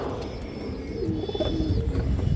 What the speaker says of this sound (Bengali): পুরান জাতের সবজি দোবাস মাদি কবুতর